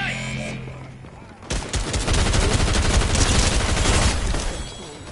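Sustained rapid gunfire rattles on for several seconds after a brief lull, as a player shoots at a gun emplacement in a video game. The shots are loud, dense and continuous.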